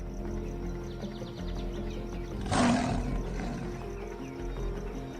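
A male lion roars in the wild, a single loud, rough burst near the midpoint that rises out of a steady bed of documentary music and ambience and then fades back under it.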